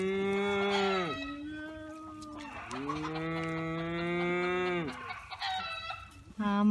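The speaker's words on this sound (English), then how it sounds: "Buddy, make him moo again, Curtis." A young bottle-fed calf lets out two long, loud moos up close, each drawn out and falling in pitch, with a brief gap between them and a short sound at the end.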